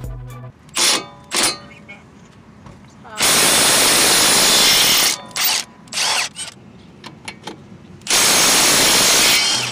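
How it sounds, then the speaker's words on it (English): A power tool with an 18mm socket spins off the two knuckle-to-strut fasteners on a 2005-2010 Chevy Cobalt during CV-axle work, in loud close bursts of whirring and ratcheting between quieter pauses. "I'm using an 18mm socket to remove the two knuckle to strut fasteners."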